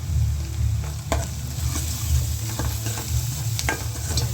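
Machine-chopped onions and green chillies sizzle in a pan as turmeric is stirred in. Constant frying hiss runs under repeated spatula scrapes and taps, with a low hum beneath.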